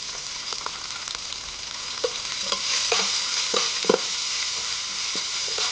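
Chicken in salty spices sizzles and fries in a pan while a spoon scrapes and stirs it in scattered knocks, a close, steady hiss with no one talking.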